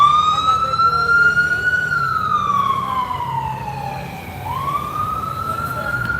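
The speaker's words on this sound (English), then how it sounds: "Did that help me covering the mic so you didn't hear the siren?" An emergency vehicle siren wails as it passes on a street during a protest, rising and falling in pitch over a steady background of traffic rumble.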